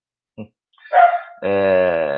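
Dogs bark from close by during an online statistics study group meeting, one short yip followed by a louder bark and a sustained whine-like bark, with no talk over them.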